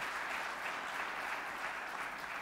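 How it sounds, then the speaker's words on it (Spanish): A church congregation applauding steadily, a dense even patter of many hands throughout, with no voices over it. "Démosle un aplauso al Señor"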